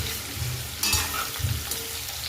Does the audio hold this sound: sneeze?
no